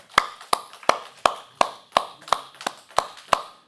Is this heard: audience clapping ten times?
yes